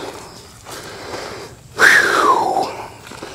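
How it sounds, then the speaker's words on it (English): Heavy breathing close to the microphone while tearing down an outside deck, with a strained, wheezy exhale rising then trailing off, against faint background noise. "Don't want to hear me breathing"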